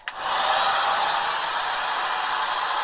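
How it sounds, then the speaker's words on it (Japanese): A hair dryer blows steadily while short hair is dried and styled. It starts with a click and then holds a loud, close, unbroken airy whoosh, with no talk. "で、ドライヤーしていきます。"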